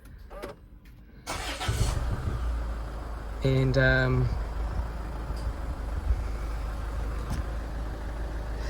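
A 2013 Range Rover Evoque engine cranks and catches, then settles into a steady idle after a gearbox fluid service, with a brief chime sequence and a few spoken words over it.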